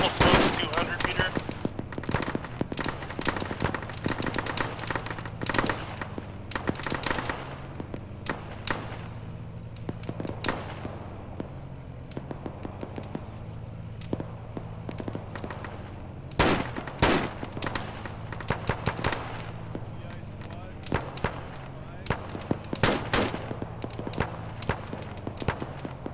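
Heavy machine-gun and rifle fire during an Arma ShackTac squad battle, sharp cracks and rattling bursts at varying distances across a continuous firefight, with occasional radio chatter underneath.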